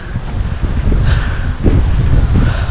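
Strong, cold wind at Munnar Top Station roars in continuous gusts straight across the microphone, loud and close with no voices.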